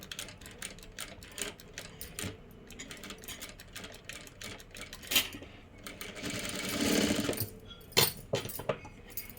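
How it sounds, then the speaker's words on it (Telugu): A sewing machine stitches slowly along a boat-neck blouse near sewn-on stones, giving an uneven run of close mechanical clattering bursts and pauses, with a louder, steadier stretch of stitching near the end. "సో స్టోన్స్ ఉన్న దగ్గర నేను స్లోగా అయితే కుడుతున్నాను."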